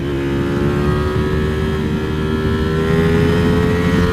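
A 2020 Streetfighter motorcycle fitted with a full Akrapovic exhaust revs hard on a dyno, its engine holding a loud, steady, high-pitched howl that climbs slightly in pitch for four seconds without pause.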